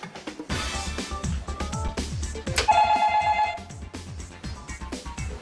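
On a television game show, a telephone rings once for a phone-a-friend call, a short, clear tonal ring that cuts through busy background music and studio noise.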